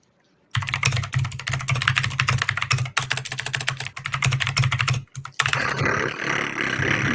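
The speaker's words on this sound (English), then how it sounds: "That sounds like Kevin typing. It's brown mechanical keyboard switches." Fast, continuous typing on a mechanical keyboard with brown switches, dense close clacking that runs steadily with a couple of short pauses.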